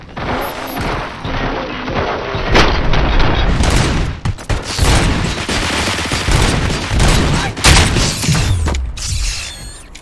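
Gunfire in the RoboCop: Rogue City game: loud, dense automatic fire with mechanical clanks, crashes and booms keeps going for ten seconds, with a sharp electronic whine near the end.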